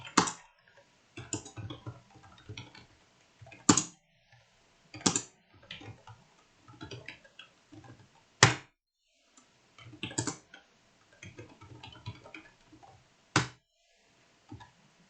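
Typing on a computer keyboard while entering a number at a program prompt: scattered soft key clicks with a few louder, sharper key strikes, close and quiet, with pauses between bursts.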